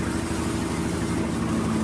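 A Vespa scooter's rear engine runs at a steady, low idle beside the road, a continuous even drone with no revving or speech.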